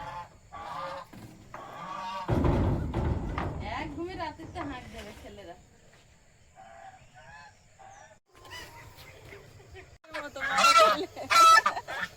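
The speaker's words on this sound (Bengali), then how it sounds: "আরো মুরগি হলে ওরাও ভোরের থেকে ডাক শুরু করে" Village chickens cluck and a rooster calls in the early morning at rice-harvest time, in intermittent bursts near and far, with people talking over much of it.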